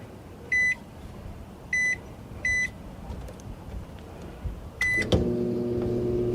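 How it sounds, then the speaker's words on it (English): A microwave oven hums softly while several short electronic beeps sound in sequence, then the oven starts up with a steady, loud mechanical drone. "test out the microwave"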